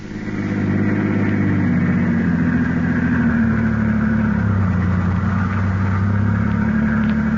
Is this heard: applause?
no